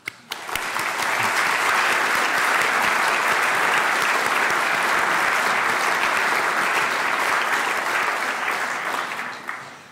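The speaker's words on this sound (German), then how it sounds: "das ist ein Applaus wert" Sustained, loud applause from an audience at a formal opening ceremony, starting abruptly, holding steady for several seconds and tapering off at the end, with no talk over it.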